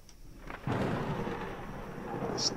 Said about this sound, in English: Stupid fucking thunder.